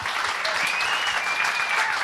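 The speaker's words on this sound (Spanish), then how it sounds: "Den un aplauso al Señor." Brief burst of a church congregation applauding in worship, thick continuous clapping from many people heard up close, a faint whistle-like tone drifting over the top.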